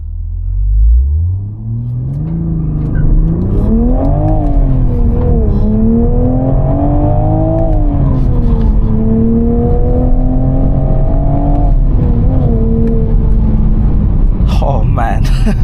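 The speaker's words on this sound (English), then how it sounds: "So I won't actually dump the clutch, but I'll do a bit of an aggressive takeoff." A 2024 Toyota GR Supra (A91) manual with 390 hp pulling away hard from a standstill: loud engine roar rising steadily through the revs, with a brief dip at a gear change, heard close from inside the car.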